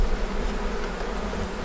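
Swarm of honeybees buzzing around a beekeeper, a close, continuous droning hum with slight wavering in loudness and no speech.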